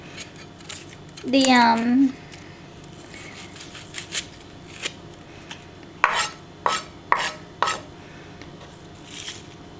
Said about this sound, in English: I'm going to really be chopping this give this a really rough chop